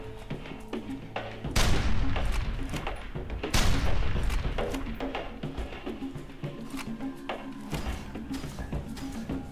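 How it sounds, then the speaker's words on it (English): Rifle firing .50 BMG rounds in the game F.E.A.R. 2, a series of loud, booming single shots with sharp attacks and rumbling tails, spaced irregularly amid lighter combat clatter and thuds. "This rifle says it shoots 50 BMG"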